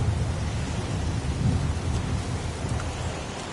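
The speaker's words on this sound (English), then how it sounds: "It's pouring rain." Heavy pouring rain beats down in a dense, steady hiss while deep rolling thunder rumbles underneath, loud and continuous throughout with no voices.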